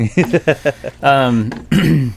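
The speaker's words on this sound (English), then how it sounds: "I have a lot of stuff to clear out of my throat" A person clears their throat with several short, voiced grunts and rasps, close up, followed by a drawn-out vocal rasp.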